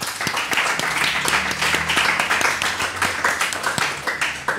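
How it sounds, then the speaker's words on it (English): A podcast audience applauds for a guest, dense continuous clapping from many hands at close range, steady and lively throughout. "round of applause to Samer Behan"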